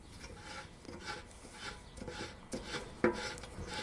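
Petcock repair tool on an old Harley-Davidson gas tank being unscrewed, soft repeated metallic rubbing and rasping, faint and close, with a small click near the end and no talking.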